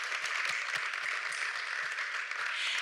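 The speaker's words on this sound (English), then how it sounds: "Let's give him another round of applause." Audience applause at a volunteer awards event, a steady wash of clapping sustained evenly throughout at moderate loudness with no voices.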